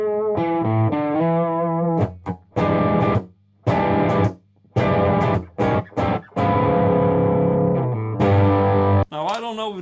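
A Black Sheep Roto Engine guitar pedal in its red-light mode gives a muffled, treble-cut guitar tone, with a series of distorted chords and notes played close in choppy bursts separated by short gaps.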